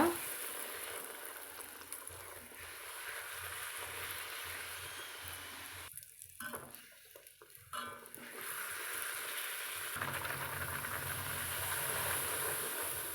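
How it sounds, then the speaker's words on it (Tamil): Puri puffing up in hot oil, a steady broad frying hiss that runs throughout at a soft level, with brief gaps where the sizzle drops away before resuming. "எல்லா பூரியும் நல்லா புசு புசுன்னு மொறு மொறுன்னு சுட்டு எடுத்தாச்சுங்க"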